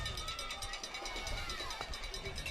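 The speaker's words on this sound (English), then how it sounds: "Crowd trying to make some noise." Crowd noise at a 2023 high school football game between Shawnee and Carl Albert in Oklahoma, a steady broad roar of many voices holding at one level throughout, heard from a distance across the stands.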